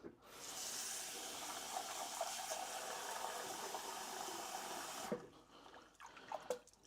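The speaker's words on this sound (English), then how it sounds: "Just rinsing that rice off." Rice being rinsed in a sieve under a running tap: a steady, close rush of water for about five seconds, then it cuts off, leaving faint drips and small clinks.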